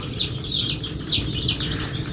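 Backyard chickens clucking and squawking nearby in a steady cluster of short calls, with a constant hum of farm background underneath and no talking.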